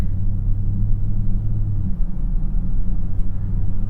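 A steady low engine rumble and road hum fill the quiet cabin of a 2024 BMW X5 xDrive50e plug-in hybrid SUV, holding even and unbroken as it gathers speed, climate control running.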